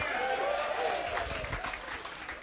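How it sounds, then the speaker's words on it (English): Rodeo crowd at the 2012 National Finals Rodeo in Las Vegas breaking into broad, steady applause and cheering that fills the arena for a couple of seconds, with a murmur of voices mixed in. "Let's try a little better round of applause"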